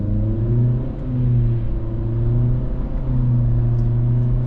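A 2025 Acura Integra accelerates with a steady engine drone whose pitch climbs and drops at the simulated gear shifts, heard clearly from inside the car with no talking.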